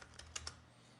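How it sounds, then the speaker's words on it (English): A few keystrokes tap on a computer keyboard as a value is entered, about four faint, quick clicks close by over a low background hum, with no voices. "so just type it in."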